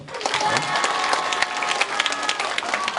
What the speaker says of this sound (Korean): 우리 양훈 학생의 뜨거운 박수 한번 부탁드릴게요.